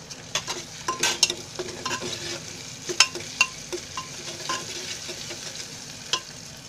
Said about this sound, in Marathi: आता मी त्याच्यामध्ये ही अद्रक लसूणची पेस्ट टाकते.